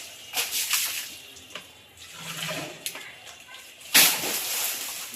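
Water sprayed hard onto a Honda motorbike during washing: uneven rushing, splashing spray with bursts and lulls, loudest near the end, over a faint voice in the background.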